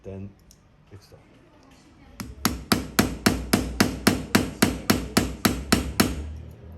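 A hammer strikes metal parts of a handmade Swiss Army knife, about fifteen sharp evenly spaced close blows after a few quieter taps, with a voice speaking briefly at the start.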